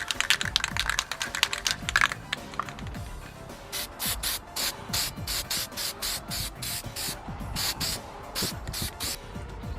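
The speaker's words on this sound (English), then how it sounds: "Now we're going to go ahead and spray it with the yellow." An aerosol can sprays yellow paint onto a plastic pager in repeated short hissing bursts with brief gaps between them, close and steady, after a stretch of clicking handling sounds.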